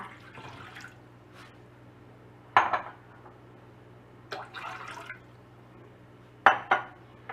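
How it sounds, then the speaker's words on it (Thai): Water and vinegar are poured into a pot on a gas stove over medium heat for a vegetable spring roll sauce, in three short splashing bursts with clinks against a quiet kitchen hum. "จากนั้นใส่น้ำเปล่าแล้วก็น้ำส้มสายชูลงไปนะคะ"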